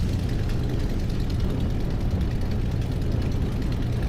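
A light aircraft's piston engine idles steadily while it warms up, giving a continuous low, rumbling drone at an even level with no talk over it.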